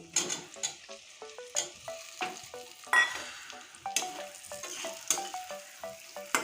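Fried potatoes being stirred into a spice masala in a pan for a soybean and potato curry, a sizzling fry under repeated scraping strokes of a spoon, near and rhythmic, with no talk.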